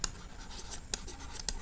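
Handwriting during a trigonometry lesson: a pen scratches and taps across paper in short, quiet strokes, close by, with no speech.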